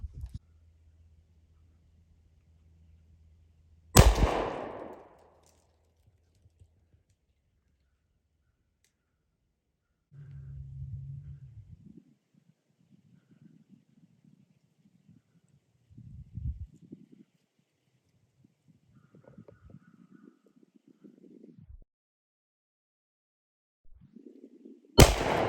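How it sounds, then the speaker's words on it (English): Two sharp .410 shotgun blasts crack out during a squirrel hunt in the woods, one early and one at the very end, each loud and close with a brief echo, separated by quiet rustling and faint low noises. "Well, the 410 got it done. After a couple shots, finally got that squirrel."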